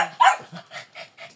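Puppies bark and yip in a quick series of short, close yelps, one louder bark followed by several softer ones.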